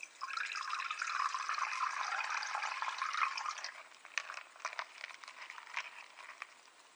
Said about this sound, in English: then I slowly squeeze almost all the water out of the bag